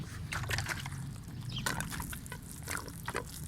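Water is poured onto a mint plant growing in a basket, producing a steady close trickle and splash with a few louder sloshing bursts throughout.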